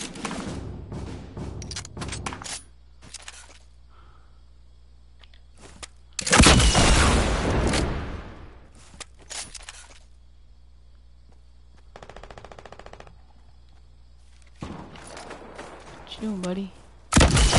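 Video game gunfire in rapid automatic bursts, with a long heavy barrage in the middle and scattered shots before and after, loud and close among gaps of near silence.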